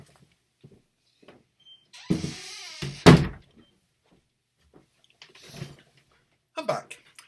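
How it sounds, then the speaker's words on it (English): A door shuts with a solid thunk, preceded by a short creak or swing, then quiet with faint movement and a few soft knocks. "I'm just going to close the door because the microwave is beeping."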